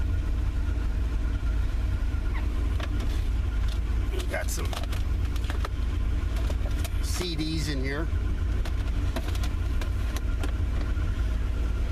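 A 1978 Corvette's engine runs steadily at idle after a winter startup, a low continuous rumble heard close by with someone talking over it.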